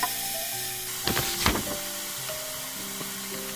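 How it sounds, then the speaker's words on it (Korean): Carrots and onions for japchae stir-fry in a pan with a steady moderate sizzle, broken by two short bursts of clattering spatula scrapes near the start, alone without talk. "반 정도 볶아주면 당근 넣고 볶고 양파 넣고"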